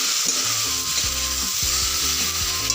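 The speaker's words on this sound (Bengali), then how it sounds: "এক চামচ চিনি দেওয়ার পরে এটাকে আবার ভালো করে নাড়তে হবে।" Sugar is stirred into a frying Bengali fish curry with tomatoes, a loud steady sizzle under repeated spoon scrapes and knocks against the pan, with no talk.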